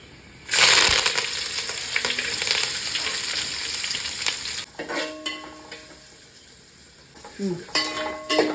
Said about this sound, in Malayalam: അതിനുശേഷം നമ്മൾ വെളുത്തുള്ളി, സവാളയും ഈ കറിവേപ്പിലയും മുളകെല്ലാം ചേർത്തിടുവാണ്.